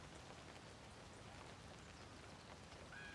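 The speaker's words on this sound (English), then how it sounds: "It's raining." Rain falling outdoors in a graveyard, a faint, steady wash of dense patter that runs evenly throughout, with no talking.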